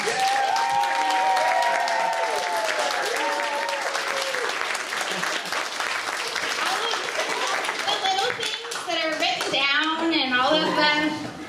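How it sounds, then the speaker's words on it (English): Loud sustained applause fills a school holiday performance hall, dense crowd clapping mixed with children's voices and cheering, with some talk and singing-like tones over it. "a huge round of applause to Mrs. McDonald"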